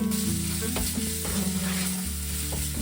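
Spice masala with chopped tomatoes and salt being stir-fried in a pan for pav bhaji: a close, steady sizzle broken by repeated scraping and knocking strokes of a spatula, with no voices.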